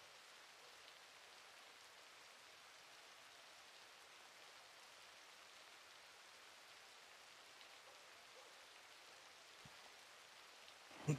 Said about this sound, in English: The rain sounds so peaceful outside right now.